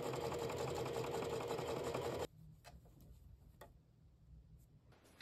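A sewing machine runs steadily with elastic thread in the bobbin as it stitches along a missing stitch line on a garment. There is a loud continuous whirring burst for about two seconds, then it stops, leaving faint quiet ticks.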